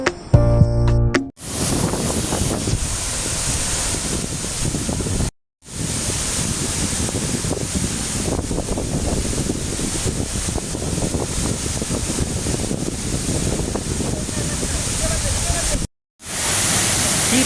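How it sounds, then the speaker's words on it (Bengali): Suptodhara waterfall at Sitakunda in heavy flow after rain, a loud continuous broadband roar of falling water close by, broken by brief silent cuts. "এরকম পানি এত পানি ঝর্নাতে দেখতে সেই চমৎকার লাগতেছে"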